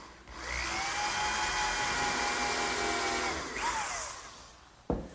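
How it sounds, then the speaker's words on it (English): A power drill whines steadily for a few seconds boring a hole in wood, its pitch dropping as it winds down, followed by a sharp click. "And I'll drill a hole right at the top edge."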